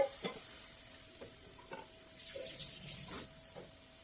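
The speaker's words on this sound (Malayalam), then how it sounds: "ഇതിലേക്ക് കുറച്ച് ഉപ്പ് അതുകൊണ്ട് നന്നായി നമുക്ക് കുറച്ച് വെള്ളം ഒഴിക്കാം." Water poured with salt into a pan of sautéed ingredients, giving a faint splash and soft sizzle with a few light stirring knocks, quiet and close.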